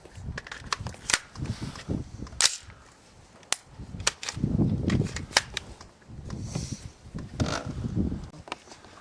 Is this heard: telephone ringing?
no